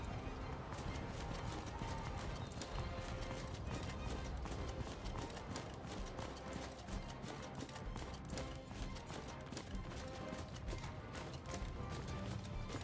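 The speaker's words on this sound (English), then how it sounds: "get me off this damn horse" Horse hooves clip-clop in a steady, rapid rhythm during a castle battle in Mount & Blade II: Bannerlord, the beats dense and continuous under a busy game soundscape at low volume.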